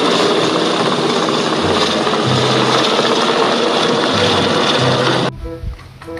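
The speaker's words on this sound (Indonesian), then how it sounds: "ada helikopter polis warna hitam" A black police helicopter flies overhead, its engine and rotor making a loud, steady roar and hum that cuts off sharply near the end, leaving faint low rumbling.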